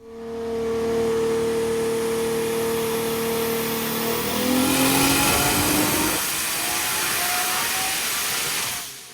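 A 2JZ-swapped Hellcat engine revs hard with rising harmonics, climbing to a loud peak near the middle before settling into a steady, strained drone that cuts off at the end; no one speaks.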